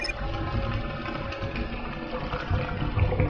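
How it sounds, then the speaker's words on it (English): In Star Trek: Voyager Elite Force, green goo drains from a cargo bay with a continuous gurgling, plug-hole draining sound under a low rumble of game ambience. "I very much enjoy the water going down the plug hole sound effect that's employed there when the green goo is drained from the cargo bay"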